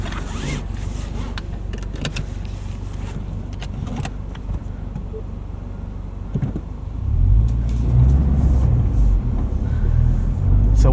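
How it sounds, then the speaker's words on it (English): A 2022 lifted Subaru BRZ rally car idles and then pulls away on ice and snow, its engine a loud, steady rumble close by that swells louder as it gets under way, with faint clicks and rustles of the cabin over it. "We'll go for a drive in the Rally BRZ and see what it can do"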